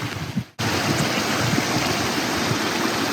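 A creek flows past old mill ruins with scattered millstones, a loud, steady rushing of water heard up close, cut by a brief dip at the start.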